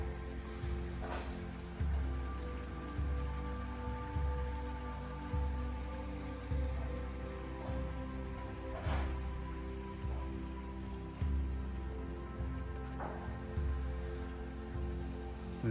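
Steady trickling and dripping water running down a rain chain in a Japanese-style garden, with soft low thumps repeating about once a second underneath.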